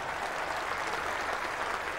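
Loud, steady applause rolls around Old Trafford cricket ground during a 1997 England v Australia Test match, a dense continuous wash of crowd clapping heard at a distance with no pauses.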